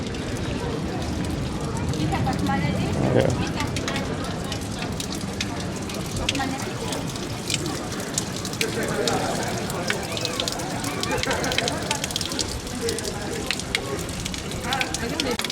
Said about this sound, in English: And you've got this nice fountain. I think there's some water coming out.